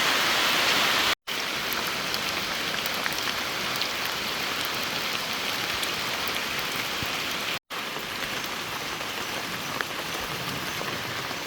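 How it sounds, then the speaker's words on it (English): Heavy rain falls in the Panamanian jungle, a continuous close patter of drops on leaves and surfaces with scattered sharper splashes, steady and loud apart from two brief dropouts. "Yep, it's rain."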